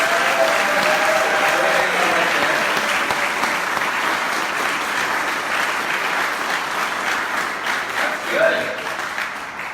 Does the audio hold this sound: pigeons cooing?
no